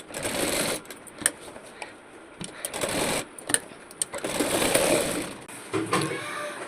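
Sewing machine stitching elastic onto palazzo pants, a steady whirring run in several bursts with brief pauses between, close and fairly loud.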